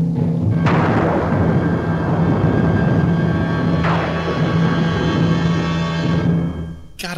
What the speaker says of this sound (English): Gotta love that crash of lightning, right on cue to punctuate the dialogue